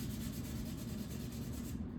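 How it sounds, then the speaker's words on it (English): Acrylic body filler (dolphin glaze) on a DIY speaker cabinet sanded by hand with 220-grit paper, giving a steady, close, continuous rubbing scrape with no pauses and no talk. "Just lightly sanding it"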